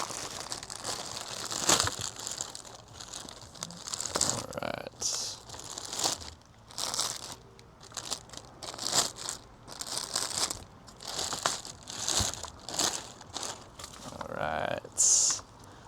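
Thick sealed plastic packaging around a new set of aftermarket RGB tri-bar taillights for a Toyota FRS is ripped open, with repeated sharp crinkling and tearing bursts, close and fairly loud, under occasional speech.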